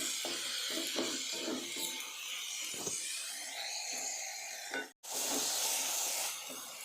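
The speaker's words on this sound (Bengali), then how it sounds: "এবারে এটাকে আমি সুন্দর করে এভাবে নেড়ে চেড়ে টমেটোকে গালিয়ে নেব" Tomatoes cooking down with a little salt hiss and sizzle in a pan as a spatula stirs them, making rhythmic scraping strokes over a continuous steamy hiss that briefly cuts out, then returns.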